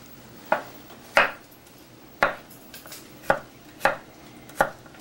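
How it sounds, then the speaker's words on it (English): A knife chops garlic on a cutting board in a home kitchen while spaghetti sauce is being made, seven or so distinct sharp thuds at an uneven, unhurried pace, close and clear with no talk. "chopping up the garlic."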